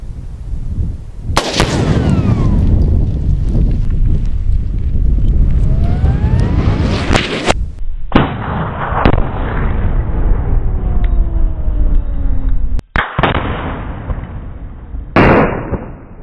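A 50 lb exploding target detonates outdoors with a huge, sustained blast that rolls and echoes for several seconds. Further loud reverberating booms and cracks follow, heard from a distance, with no speech.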